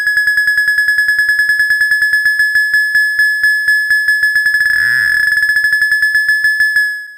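Modular synthesizer VCO switched by a dual comparator with logic outputs, giving a steady bright electronic tone pulsing in rapid even beeps, briefly sweeping and shifting pitch near the end before cutting off.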